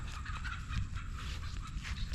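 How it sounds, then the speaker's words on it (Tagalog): Faint poultry clucking and gobbling sounds over a low, rumbling outdoor background, fairly distant and continuous. "Tapos may manok."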